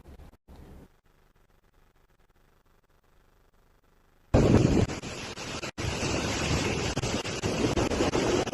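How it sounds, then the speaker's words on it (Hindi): Floodwaters of the Musi river in Telangana rushing over bridges: quiet at first, then a sudden loud, steady broadband roar of flowing water, wind-buffeted and close to the microphone. "मूसा नदी के कई ब्रिजेस के ऊपर से पानी बह रहा है"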